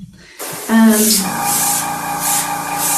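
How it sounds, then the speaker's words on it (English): A steady airbrush hiss, spraying cake decoration in a spray booth, starts abruptly and continues close up, with a brief tonal squeal early on and soft pulsing in the spray. "don't do that constant spray"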